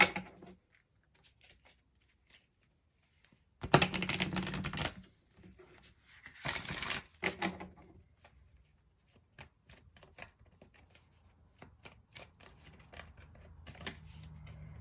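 A Moonology oracle card deck being shuffled by hand, with bursts of riffling and brisk card slaps separated by quieter pauses of light handling, close and fairly loud, without any speech.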